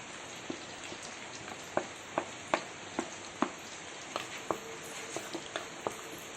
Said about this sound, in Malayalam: അണ്ടിപ്പരിപ്പും കിസ്മിസും കൂടെ ഒന്ന് വറുത്തെടുക്കുക